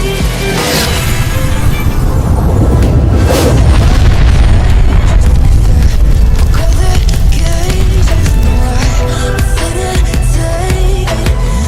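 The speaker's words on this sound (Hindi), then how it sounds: "उस धमाके से बाबा की बॉडी फट जाती है" A loud, sustained blast rumbles through a dense roar of low booming and crackling, with no gaps, forming a continuous wall of explosive sound.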